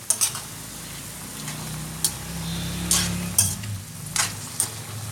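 Chicken with bay leaves and cracked pepper stirred in a pan, a low sizzle under repeated sharp scrapes and clicks of the utensil against the pan.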